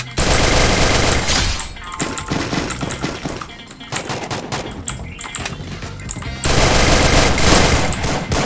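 Automatic gunfire in the mobile shooter Free Fire, loud and nearly continuous bursts over game music and effects, with a brief lull in the middle before firing resumes.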